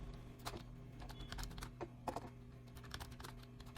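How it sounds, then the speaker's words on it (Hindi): Repeated keystrokes on a computer keyboard while working on tab settings in Microsoft Word, several close crisp taps at an uneven pace over a soft background hum. "फिर कीबोर्ड से टेप प्रेस किया"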